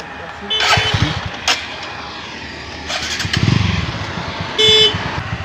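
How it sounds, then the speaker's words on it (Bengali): A 35-year-old motorcycle engine runs close by, its putter rising and falling in bursts, with a brief horn-like tone and a person's voice heard intermittently. "আপনার 35 বছরের পুরান একটা বাইক, এটা তো রিভিউ করা যায়।"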